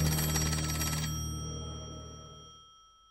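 A telephone bell rings loudly for about a second with a rapid metallic trill, then the tone lingers and fades away slowly in a quiet room, with no talking.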